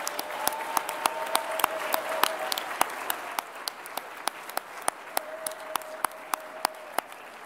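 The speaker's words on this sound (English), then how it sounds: "let's give another round of applause, or maybe the first round of applause, to the incredible staff working here at the Washington Hilton" Scattered, sparse claps ring out one by one across a large conference room as attendees applaud the staff at the Washington Hilton. The sharp, separate hits sit over a low hum, and there are faint tones in the background.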